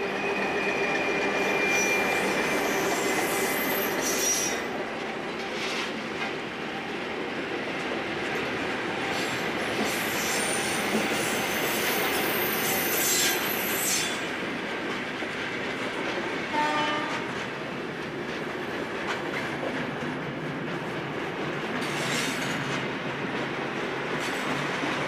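Diesel locomotive train of Portugal's CP railway running along the line, a steady rolling rumble with clattering wheels, brief squeals and a horn, heard fairly distant and even throughout.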